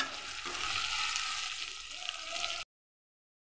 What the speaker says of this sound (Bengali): প্রথমে আমি আলুটাকে একটু ভেজে নিচ্ছি।